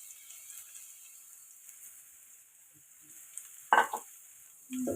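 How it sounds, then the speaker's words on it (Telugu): Ridge gourd pieces tipped into a pan of frying onions, a soft sizzle under a quiet hiss, then a brief clattering burst as the pieces drop in, followed by a short stir scrape near the end. "ఇప్పుడు ముందుగా కట్ చేసి పెట్టుకున్న బీరకాయ ముక్కలు వేసేద్దాం"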